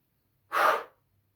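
A single deep breath blown out hard and fast during a stress-release exercise, a brief loud whoosh of air close to the microphone.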